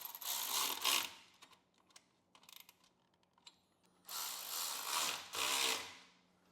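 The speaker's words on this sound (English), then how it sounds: "now he's going to tighten our shield back on" A ratchet tightens the exhaust heat shield on a 2023 Harley-Davidson Road Glide with a Khrome Werks exhaust, in several close bursts of rapid clicking separated by short pauses.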